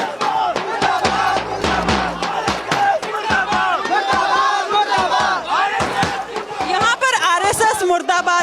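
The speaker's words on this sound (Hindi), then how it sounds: "यहाँ पर बीजेपी के मुर्दाबाद के नारे लग रहे हैं।" Protest crowd at Jantar Mantar, New Delhi, loudly chanting slogans in rhythmic bursts, dense and close with shouting voices and crowd noise throughout.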